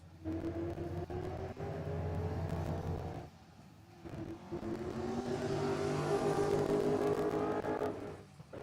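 A 1986 Mazda RX-7 driving a hill-climb race course, its engine droning steadily and climbing in pitch through long revving pulls, with a brief dip between shifts before it rises again.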